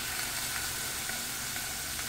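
Cubes of bacon fry in olive oil in a pan, giving a dense, continuous sizzle and crackle close by with no voices.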